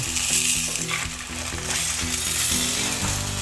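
Pork frying on a farm grill gives a steady, close sizzle with a bright crackling hiss that stays loud and even throughout, with no voices over it.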